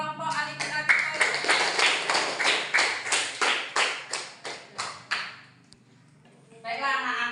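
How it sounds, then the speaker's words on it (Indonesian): A class of children claps in unison in a steady rhythmic pattern of about a dozen sharp, evenly spaced beats that gradually slow and soften. Brief silence follows before a voice resumes speaking. "Tepuk tangan untuk kelompok Ali bin Abi Thalib."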